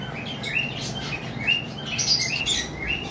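Pet birds, budgerigars among them, chirp at a bird seller's stall, with scattered short tweets over a steady murmur of background noise and no talk.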